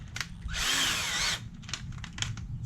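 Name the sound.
power drill drilling out dimples in small parts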